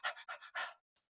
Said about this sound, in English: it's just panting like a dog, basically. 5 small breaths in and out like this.